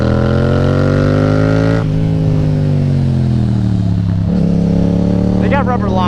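A Yamaha FZ-07 motorcycle engine rumbles loudly and close, its pitch rising and falling through downshifts with blips of revving, while a rider talks over it.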